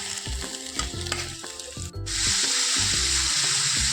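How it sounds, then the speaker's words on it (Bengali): Beaten egg lands in hot oil in a wok with a sudden loud burst of sizzling. Rhythmic scraping and clinking come before it, then an even, close hiss continues. "এরপর কড়াইয়ে তেল দিয়ে ডিমটা ভেজে নিলাম।"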